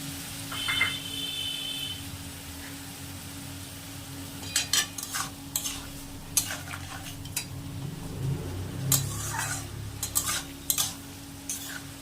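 Mixed winter vegetables with cauliflower stems, mustard seeds and green chilies sizzling in a pan as water goes in, followed by repeated spoon scrapes and clinks against the pan, close and moderately quiet.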